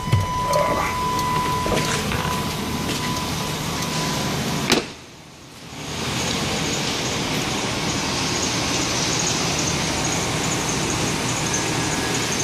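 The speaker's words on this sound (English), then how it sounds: "Good little truck, and it's amazing on gas, but as you can hear, it is quite loud." A loud 1996 GMC Sierra pickup truck runs steadily nearby, its engine a constant rough drone that briefly drops away before returning just as strong.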